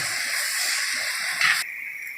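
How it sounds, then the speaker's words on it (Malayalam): Onions frying in a pan while being stirred for a Kerala brinjal theeyal give a steady, close, bright sizzling hiss that holds evenly, then thins and drops lower near the end. "ഉള്ളി നല്ലതുപോലെ ഇളക്കി കൊടുത്തുകൊണ്ടിരിക്കുകയാണ്"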